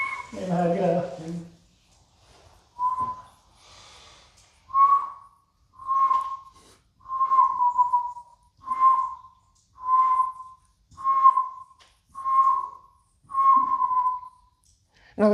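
A person makes about ten short, steady whistled notes at an even pace, close and fairly loud, trying to get the whistle going after a brief burst of speech at the start.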